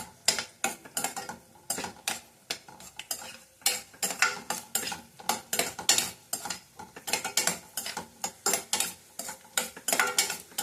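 Raisins are fried and stirred in a pan for coconut shavige payasa, heard as a close run of quick irregular scraping and clinking strokes of a utensil against the pan over a faint sizzle.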